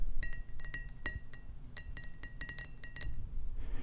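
A glass jar being handled clinks repeatedly, bright quick taps in irregular clusters over a faint low background, close and quiet, with no talk.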